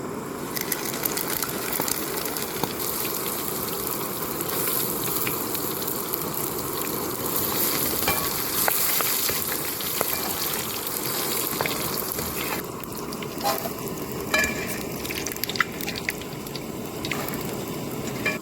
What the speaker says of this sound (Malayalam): ചിക്കൻ ഒന്ന് ഫ്രൈ ചെയ്തെടുക്കാം